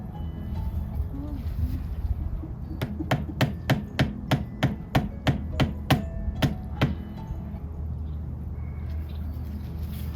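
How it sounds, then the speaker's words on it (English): A mallet drives a tree stake into the ground outdoors, about a dozen sharp, evenly spaced knocks in a steady rhythm near the middle, close and fairly loud over quiet background. "first I drove in the stake deep into the ground, so with a mallet"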